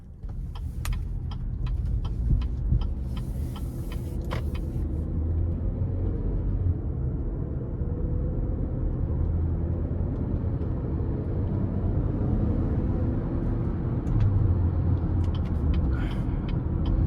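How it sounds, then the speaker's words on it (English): 2023 Chevrolet Equinox Premier with a 1.5-litre turbo engine driving on the road, heard from inside the cabin as a low, steady road and engine rumble, with a few clicks early on. "take this Equinox Premier out on the road for a quick test drive"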